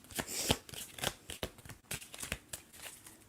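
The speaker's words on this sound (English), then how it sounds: "Tiffany, as I'm shuffling the cards" Tarot cards are shuffled in quick bursts of crisp riffling and flicking, close and moderately quiet, with a rapid uneven rhythm and no talk over it.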